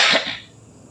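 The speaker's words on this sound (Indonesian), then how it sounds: "Batuk." A single short, sharp cough from a nearby speaker, fading quickly into quiet room tone.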